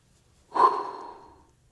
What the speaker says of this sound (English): And when you're doing this, you're breathing in.